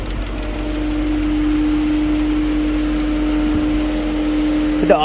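A sludged-up Nissan NV 3500 engine with a tap on one side runs at a steady idle, a close, loud low drone with a constant humming tone throughout.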